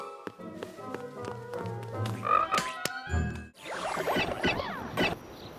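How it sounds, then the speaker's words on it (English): Cartoon bullfrog croaking in a children's animated show, a series of deep, resonant croaks over a musical score, with a burst of busier mixed sound toward the end. "Now let's get away from that bullfrog"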